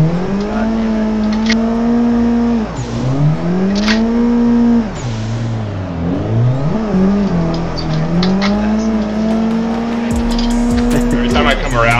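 Car drifting and spinning out in the Assetto Corsa racing game, with a loud, sustained engine drone that dips and swoops as revs drop and climb again, while voices talk over it.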